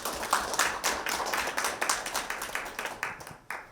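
At a university lecture forum, a modest audience claps to welcome the next speaker, the individual hand claps distinct and steady at moderate volume before tapering toward the end.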